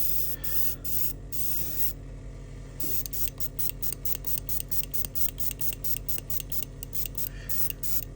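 Airbrush spraying paint onto a Merlin Models Star Wars AT-ST model from Return of the Jedi, a steady continuous hiss with brief pauses and rapid pulsing as the trigger is worked, close and alone without talk.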